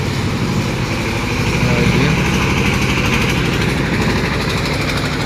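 A trawler boat engine drones loud and steady as the vessel passes along a wide river beneath an unfinished bridge in Bangladesh, a continuous rattling hum with no break.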